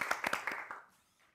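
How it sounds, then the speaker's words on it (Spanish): A few audience members clap to welcome a musician at a Montevideo show, several quick claps close together that fade out within about a second. "Lo recibimos con un fuerte aplauso."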